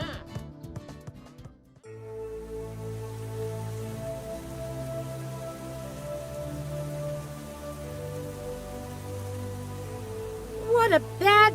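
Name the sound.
rain falling in a cartoon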